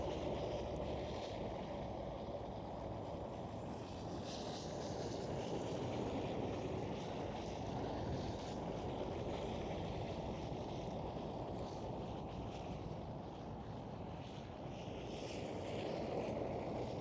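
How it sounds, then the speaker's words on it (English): A KLM Cityhopper Embraer E195-E2 airliner passes at Amsterdam Schiphol, its steady broadband jet roar holding at moderate level throughout, fairly distant and unbroken, with no voices over it. "There goes the KLM City Hopper"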